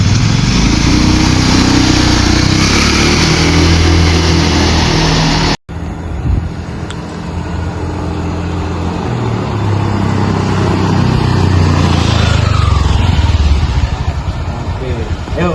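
A vehicle runs along a test track for a disc brake trial, its engine droning loudly and steadily, cutting out briefly and then resuming with a rough, motor-like hum while people talk.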